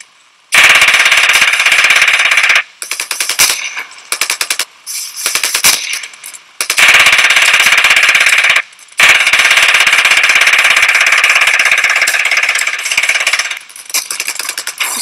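Automatic gunfire from a World War II Russian gun in the video game Ravenfield, loud and close, with long sustained bursts separated by short pauses and choppier volleys in between.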